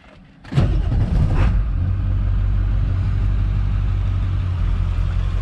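A Ford Powerstroke diesel truck engine cranks briefly and fires up, then settles into a steady, rumbling idle that carries on loud and close.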